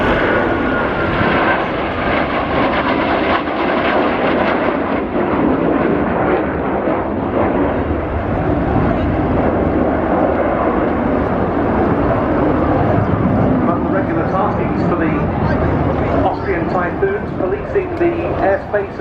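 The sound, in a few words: jet aircraft flying an air-to-air combat roll display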